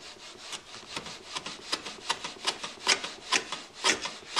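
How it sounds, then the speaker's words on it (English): Hand plane shaving end grain of wood on a shooting board, a series of about a dozen short, crisp rasping strokes in steady rhythm, close and fairly quiet with no talk. "I take my shooting board, and I come over here and I just kiss it."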